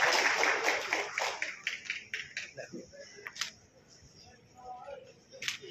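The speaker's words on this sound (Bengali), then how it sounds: "একটা জোরে করতালি হবে সবার তরফ থেকে।" Audience clapping at an honouring ceremony in Bengal, a dense burst of applause at the start that thins into scattered claps and fades, with voices talking faintly underneath.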